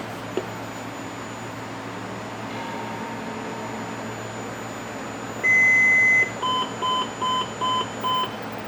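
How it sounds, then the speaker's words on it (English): A Sperry 3070-08 PC/XT clone computer sounds one long electronic beep followed by a short series of evenly spaced beeps over a steady fan hum. "The hard drive is issuing a beep code, but we do have video output."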